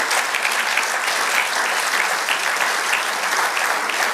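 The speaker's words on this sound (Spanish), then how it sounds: "Dale otro aplauso al Señor." Church congregation applauding during a sermon, a steady, thick wash of many hands clapping continuously, loud and even, with no talk over it.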